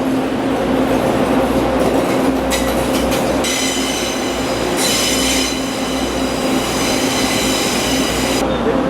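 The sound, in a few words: train slowly starting and moving along the railway track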